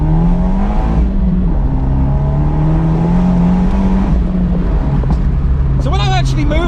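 Abarth 124 Spider engine droning steadily and loudly as the car gathers speed on a wet road, a constant close hum with shifting tones throughout and a brief whining rise near the end.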